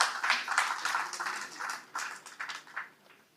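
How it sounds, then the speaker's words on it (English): An audience at an engineering college alumni meet applauds for an honored alumnus, a modest round of clapping with uneven bursts that fades toward the end. "A big round of applause for Engineer Uma Shankar"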